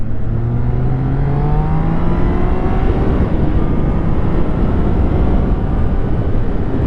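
A Street 4K motorcycle accelerating along a country road, its engine note climbing through several rising sweeps over constant loud wind and road rumble, heard close with no talk.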